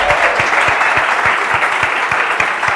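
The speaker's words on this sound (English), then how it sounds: "A big round of applause for the Build program," Steady audience applause at a startup demo day for the Build program, dense clapping filling the room continuously, with a few louder individual claps near the front.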